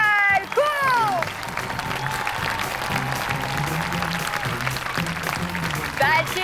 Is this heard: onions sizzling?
no